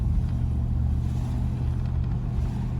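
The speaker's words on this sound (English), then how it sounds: "Just love the sound of that V8 burble" A Triumph Stag's V8 engine burbles steadily while driving, a loud, close, continuous low rumble with no voices over it.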